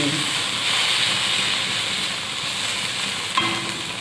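Ath bhaja, a Bengali mix of fried items, frying in a pan at home with a steady, close hiss and sizzle that holds throughout, and a faint clink near the end.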